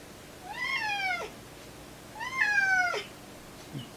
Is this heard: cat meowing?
yes